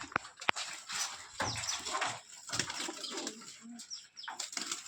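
Green pigeons of a spider-eyed breed coo softly, with wing flaps and scattered rustling in the coop, faint and close-up.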